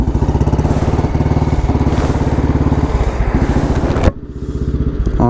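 A 1981 Royal Enfield Bullet 350 motorcycle's single-cylinder engine thumps loud and close in a steady rapid rhythm, with a brief clunk near the end before the idle settles back into its even beat.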